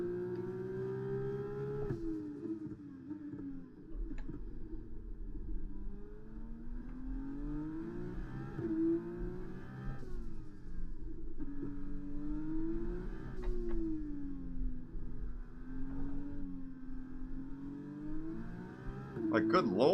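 Formula 1 car on super soft tyres racing in the F1 2024 video game, engine note rising and falling through gear changes as it laps, a steady continuous drone with shifting revs and a brief spin-out near the end.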